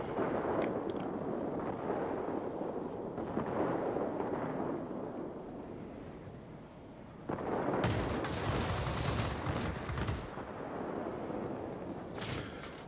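Twin 40mm Rolls-Royce aircraft cannons on the P.1056 in the video game World of Warplanes fire in heavy bursts, loud booming thumps over a constant engine drone, with a stronger volley late on.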